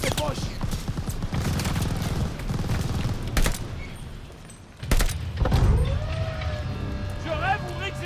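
Dense bursts of machine gun fire and explosions rattle through a Call of Duty Vanguard battle, a continuous loud barrage with booms and vehicle rumble while soldiers shout over it.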